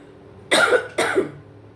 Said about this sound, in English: I'm coughing now